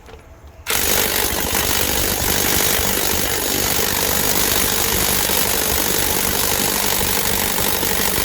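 A Ryobi power tool driven by a 4Ah battery works a nut loose, a loud continuous hammering rattle starting abruptly after a brief quiet moment and running steadily to the end, close to the microphone with no voices.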